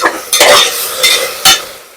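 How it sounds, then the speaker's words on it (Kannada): Mint and coriander leaves fry in a hot pan with steady sizzling, and loud stirring scrapes break through it several times. "ಇದು ನೀಟಾಗಿ ಫ್ರೈ ಆಗ್ಬೇಕು."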